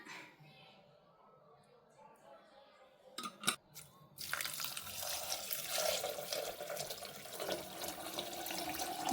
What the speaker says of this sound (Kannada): ಬೇಳೆ ಮುಳುಗೋ ಅಷ್ಟು ನೀರು ಹಾಕ್ಕೊಂಡ್ರೆ ಸಾಕಾಗುತ್ತೆ